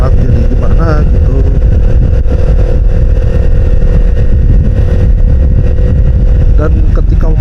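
A Yamaha MT-25 motorcycle cruises at an easy pace on a Sunday group ride, its engine a steady loud drone under heavy wind rush, with faint voices underneath.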